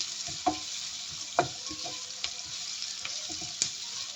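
Onions sautéing in a pan, a continuous close sizzle with occasional spoon scrapes and taps, no talking.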